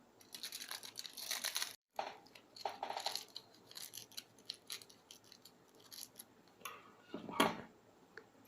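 Thin foil paper crinkles and rustles close up as it is pressed and shaped around a thumb, in irregular bursts of crackling with brief pauses and no voices.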